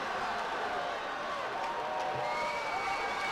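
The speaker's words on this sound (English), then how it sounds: "You can hear the crowd for the Eagles coming alive now." A football crowd cheers and roars steadily for the Eagles during a high school game, a dense, continuous wash of voices with no break.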